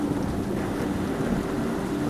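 Steady, dense rain from a thunderstorm pours down near a remote motel, a continuous close hiss and patter with no distinct thunderclap standing out.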